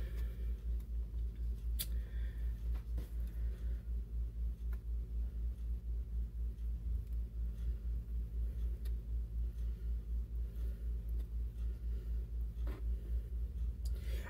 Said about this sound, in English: I can hear my husband's truck down there